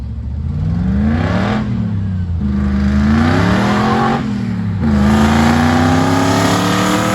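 A Hellcat-engined Jeep Wrangler with a new exhaust accelerates hard through several gears. Each rising engine howl is cut by a brief dip at a gearshift, then climbs again, loud and close throughout.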